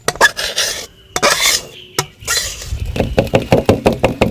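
Cooked raw mango pulp for aamsotto is scraped from a pan onto a metal plate, giving close, loud clatters and scraping of metal on metal, ending in a quick run of rhythmic taps.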